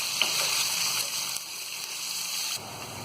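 Sliced onions fry in a pan with a steady, bright sizzle, close and continuous, broken briefly by a couple of soft stirring shifts.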